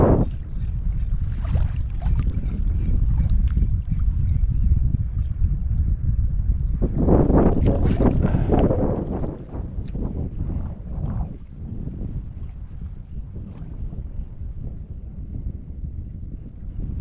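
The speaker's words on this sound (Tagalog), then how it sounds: "Ito na yung sundo namin. Yung bangka na yan," A small fishing boat's motor drones over open water with heavy wind buffeting the microphone, the engine swelling louder midway as it approaches before easing off.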